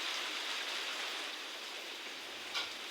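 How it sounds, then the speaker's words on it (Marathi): Heavy rain pours down in a steady, dense hiss during a stormy downpour at a village home. Faint and continuous throughout, with one slightly louder splash near the end. "फायनली आमच्याकडे आज भरपूर पाऊस आलेला आहे"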